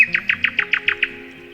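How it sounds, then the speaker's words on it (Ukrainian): A nightingale sings a clear, rapid run of about eight evenly spaced high chirps, loud and near. The phrase fades out at the end and there is no talk. "Найкращий співак соловей це справжній гімн весни."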